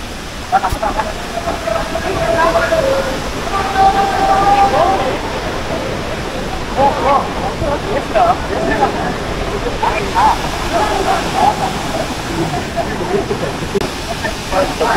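The main waterfall at Hogenakkal, India, roars in a steady, hissing rush of water while people talk over it nearby.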